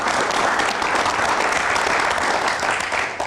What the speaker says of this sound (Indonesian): Boleh kita berikan tepuk tangan dulu untuk Pak Samuel.